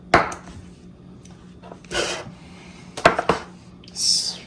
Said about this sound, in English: We whisk together flour.